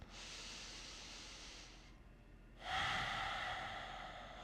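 Two deep breaths during a seated chair yoga session for thoracic mobility, heard as a long steady airy inhale, a short pause, then a louder, fuller exhale close to the microphone, with no talking.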